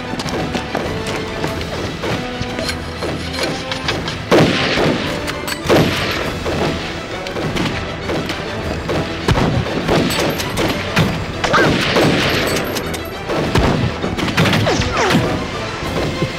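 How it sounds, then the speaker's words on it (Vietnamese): Dense, continuous gunfire including sniper rifle shots, with repeated loud bangs and heavy thuds, a chaotic battle soundscape with no clear pauses. "Súng bắn tỉa."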